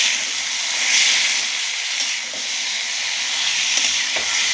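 Water poured into spice paste in a hot pan while cooking potol with coconut, a loud, steady hiss of steam and sizzle running throughout, close by with no talking.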